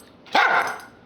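A single dog bark, a short sharp close yelp-like woof lasting under half a second, alone against a quiet background.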